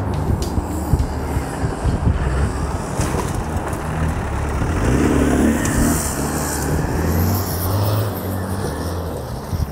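Motocross bike engines rev and drone steadily with a dense, noisy mechanical roar, swelling louder around the middle and staying continuous throughout without clear speech.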